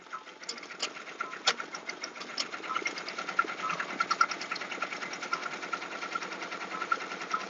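Embroidery machine stitching steadily in a busy Etsy home workshop with several machines running, a continuous fast mechanical rattle with periodic louder clacks, close and alone without talk.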